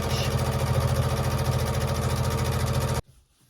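A sewing machine runs a straight quarter-inch stitch across a small baby quilt block, with a steady, rapid mechanical hum and needle rhythm for about three seconds before stopping abruptly into near silence.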